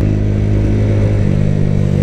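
Motorcycle engine running steadily while riding, a continuous loud mid-pitched drone with a fairly even throttle and no voices over it.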